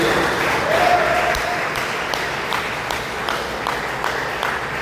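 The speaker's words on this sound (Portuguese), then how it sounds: "dê uma salva de palmas para Jesus com alegria" A church congregation applauds during a Portuguese-language worship service, producing a dense, steady wash of clapping that fills the space for several seconds at an even level, with a few voices mixed in.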